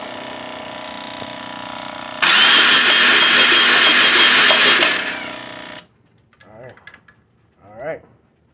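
Yamaha Roadstar Silverado XV1600 engine cranking over with its spark plug removed, a steady loud mechanical whir for about three seconds over a lower idle-like hum, then cutting off before brief talk.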